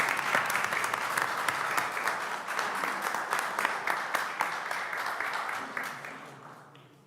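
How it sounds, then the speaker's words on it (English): Audience at a school board meeting applauding, a dense burst of clapping held steady for several seconds with individual claps poking through, then tapering off toward the end. "Let's give them a round of applause."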